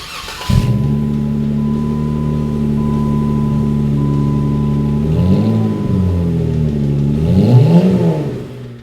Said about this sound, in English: Our aFe catback exhaust is installed.